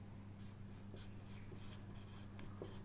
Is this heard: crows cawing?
no